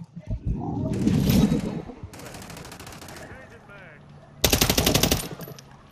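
Automatic weapon fire in the video game Modern Warfare 3, several loud rapid bursts separated by pauses, with a shouted voice and game sounds between them.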